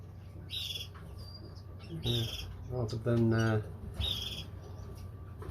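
Pet birds in a cage give short high chirps and tweets now and then over a steady low room hum, with a few louder calls near the middle.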